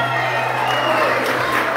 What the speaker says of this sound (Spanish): Un aplauso para ustedes que son el mejor público de Bucaramanga